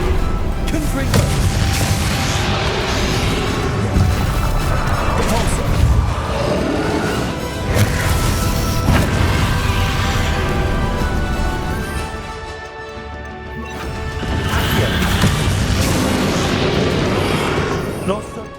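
Repeated magical blasting-spell explosions from Hogwarts Legacy in a boss fight with Ranrock, a long run of loud crashes and booms with rumbling debris, easing briefly midway before a fresh heavy barrage, with spoken voices mixed in.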